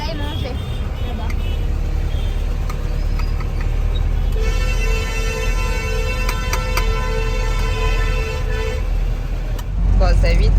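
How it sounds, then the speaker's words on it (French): Car horns honk repeatedly in Indian traffic, with several sustained toots and short blasts layered over a constant road rumble of passing vehicles, close and loud, while people talk throughout. "Bon, ça klaxonne toujours autant"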